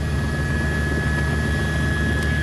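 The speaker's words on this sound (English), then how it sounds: "Let's go to April and Monica up in Chopper 4 with some more information" News helicopter Chopper 4 in flight over the city, a steady, loud rotor and engine drone with a constant whine, heard alone without talk.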